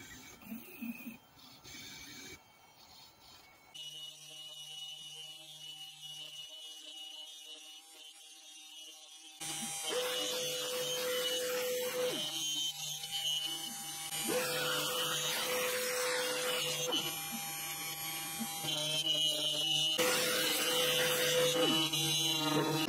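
A SainSmart Genmitsu 4040 Reno CNC router running, a steady electric whine with shifting tones as the spindle and stepper motors move, growing louder and more continuous partway through.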